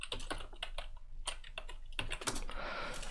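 Rapid clattering keystrokes on a computer keyboard while logging in via PuTTY to a home-automation machine, close and steady with brief pauses between bursts, no voices.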